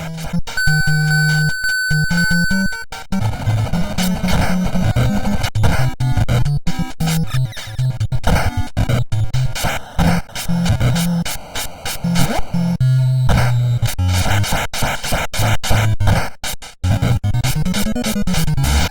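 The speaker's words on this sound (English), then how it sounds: "the sound of kicks and punches registering onto your opponent" Chaotic 8-bit NES game audio from Double Dragon 2, rapid harsh hit effects of kicks and punches striking opponents, repeated in quick bursts over chiptune music, loud and continuous.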